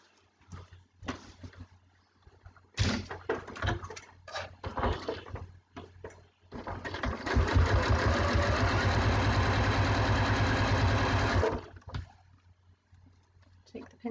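A sewing machine stitching quilt binding: a few short bursts of stitching with pauses, then a sustained run of fast, even mechanical whirring lasting several seconds before stopping, with a voice talking in between.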